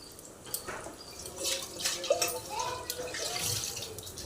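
Cut ash gourd pieces are rinsed under running water in a kitchen, with a steady splashing flow and scattered drips and clinks, moderately close and without speech.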